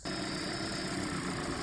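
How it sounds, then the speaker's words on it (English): A 2010-15 Toyota Prius engine runs steadily after a spark plug replacement, a continuous close idle hum with no voices. "I did just have the engine running to make sure there weren't any misfires"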